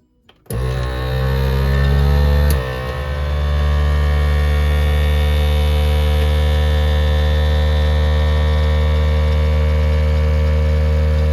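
A vacuum sealer pumps air out of a jar lid: a loud, steady motor hum starts abruptly after a brief pause and drones on without a break.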